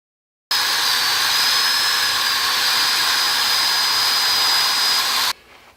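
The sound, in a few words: wire wheel cleaning a Honda Goldwing cylinder head valve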